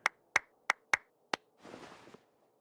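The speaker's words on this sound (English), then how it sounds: "I was applauding." A handful of separate, sharp hand claps spaced unevenly, followed by a brief soft rustling burst, close and clear in Genshin Impact with no talking.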